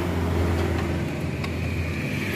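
A Honda Beat motorcycle fitted with a new custom exhaust idles steadily nearby, giving a continuous low, rumbling drone with no talking.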